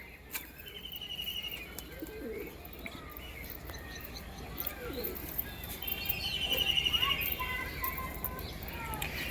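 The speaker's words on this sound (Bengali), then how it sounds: "তো বন্ধুরা দেখুন পায়রাগুলো" Faint cooing from a group of pigeons mixes with scattered chirps and a brief flutter of wings, all soft and slightly distant.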